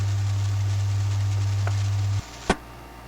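A 2-meter amateur radio scanning locally, with a steady low carrier hum that cuts off abruptly as someone unkeys, followed by a single sharp burst of noise, heard alone.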